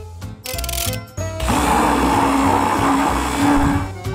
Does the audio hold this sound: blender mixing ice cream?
yes